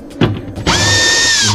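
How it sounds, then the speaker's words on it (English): A short knock, then a power drill with a quarter-inch bit spins up sharply and whines steadily for about a second before stopping, loud and close, while working on a Frigidaire refrigerator that is not cooling. "now we're gonna go ahead and use our one quarter because we have a drill"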